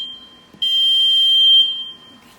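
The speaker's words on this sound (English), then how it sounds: "pass and fail alarm" A tester sounds its pass and fail alarm: one loud, steady electronic beep lasting about a second, preceded by a fainter continuous tone in an otherwise quiet room.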